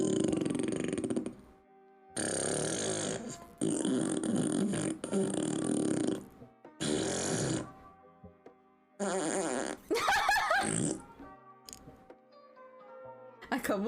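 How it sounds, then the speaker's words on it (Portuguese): Fart sounds played by an Alexa smart speaker, a string of loud, buzzing bursts of about a second each with short gaps between them, followed by other synthetic effects. "Alexa, peida."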